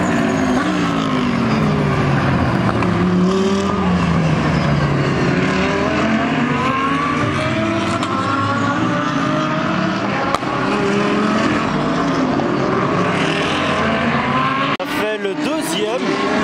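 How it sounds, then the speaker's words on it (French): Race cars, among them a Lamborghini Murcielago GT1, pass during a race in a loud, continuous engine roar with rising and falling pitch as several machines sweep by close, while a person talks over the noise. "Regardez ce que ça donne, juste après que ces voitures soient passées."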